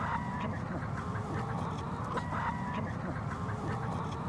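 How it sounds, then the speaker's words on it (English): An Isa Brown hen, a docile hybrid brown-egg layer kept in a chicken tractor, clucks in short repeated bursts over a steady, dense farmyard background. "That's one of our hens."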